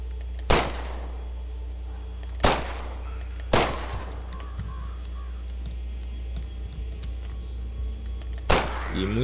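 Gunshots in the PC zombie survival game The Last Stand: Aftermath, four sharp separate shots spaced a second or more apart over a low steady hum, with faint clicks and tapping between them.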